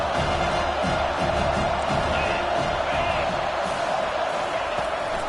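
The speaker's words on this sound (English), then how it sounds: "Decibels rising as the crowd gets behind this defense on 3rd down." Large football stadium crowd roaring steadily during a third-down defensive play, a dense continuous wall of cheering and noise heard from within the stands with no break.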